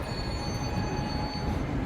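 A train at Vilnius railway station gives a loud, steady rumble of rolling wheels with a thin, sustained squeal of wheels on the rails running all the way through.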